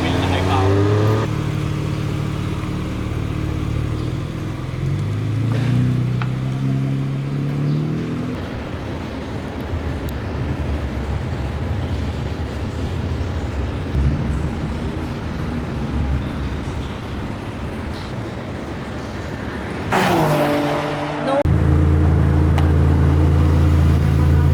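A BMW M2 runs a fast lap on a race track, its engine droning steadily and loud throughout, with wind and road roar, a gear-change-like shift near the start and a louder burst near the end, with voices talking over parts.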